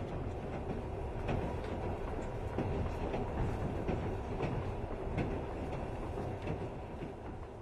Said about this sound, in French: que la fumée âcre de la locomotive qui s'époumonne